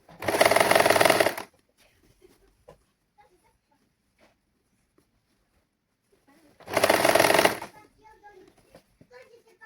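A sewing machine stitching lining fabric together with saree fabric runs in two short loud bursts of about a second each, separated by a quiet stretch with faint handling noises.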